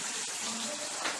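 Tomatoes dropped into hot oil with garlic in a kadai set up a steady, close hiss of frying, with no voices over it.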